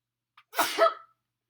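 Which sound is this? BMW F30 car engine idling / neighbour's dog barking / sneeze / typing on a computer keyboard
sneeze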